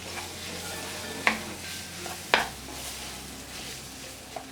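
Mashed potato being stirred into a spiced masala in a pan for a breakfast dish, with a soft steady sizzle and a few sharp spoon scrapes and knocks against the pan.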